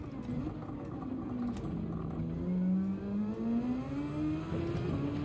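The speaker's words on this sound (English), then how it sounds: "I downshifted by accident" A car engine in Gran Turismo 7 revs up and holds a strained, wavering pitch after an accidental downshift, a steady synthetic engine drone with no talk over it.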